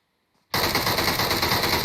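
An Uzi submachine gun opens up in a video game after a moment of silence, a sudden loud, close, continuous burst of rapid automatic fire sustained to the end.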